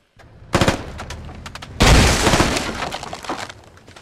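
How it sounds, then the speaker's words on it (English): Gunfire and grenade blasts in the military shooter game Squad, with militia firing down from upstairs: a sudden crack, then a loud sustained roar of shooting and explosion debris, dense and close, fading into scattered shots. "Militia shooting down from upstairs. They're shooting through the ground."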